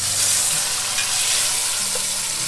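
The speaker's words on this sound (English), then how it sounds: "you can see that it's starting to sear up" Food sears in a hot pan with a loud, steady sizzle and crackle filling the whole moment, close and continuous with no talking.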